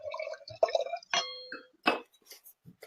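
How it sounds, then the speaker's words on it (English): Jacquère white wine is poured into a glass in short gurgling, splashing bursts with light clinks, close and fairly quiet, with brief gaps between pours. "I'm going to pour myself a little bit more"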